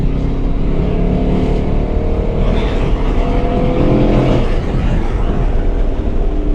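A powerful Chevy SS engine roars continuously from inside the cabin on a race track, loud and steady with slight swells as it accelerates.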